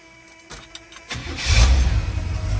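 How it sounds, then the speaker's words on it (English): A 1971 Oldsmobile Cutlass S engine cranks with a few brief clicks, then catches and roars to life loudly up close, settling into a rough rumble. "Easy start."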